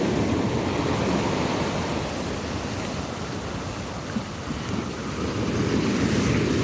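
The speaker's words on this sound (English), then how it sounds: "You want to be able to hear that sea," Sea waves wash onto a beach, giving a loud, continuous roar of surf with steady rushing wash and some wind buffeting on the microphone.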